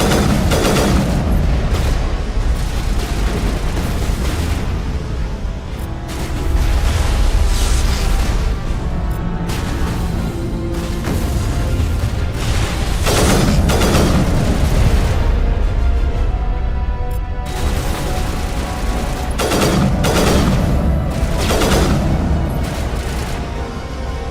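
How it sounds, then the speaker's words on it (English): Heavy video game gunfire from Mass Effect, a dense run of loud overlapping shots and booming blasts that rolls on with brief swells and lulls throughout. "why am I shooting my partner?"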